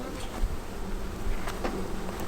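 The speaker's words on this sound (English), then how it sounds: "How do you feel about being around all these bees?" Honeybees buzz steadily around an open beehive during a hive transfer, a close, continuous drone with faint rustles and no voices.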